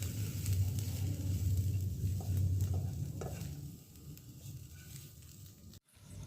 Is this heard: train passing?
no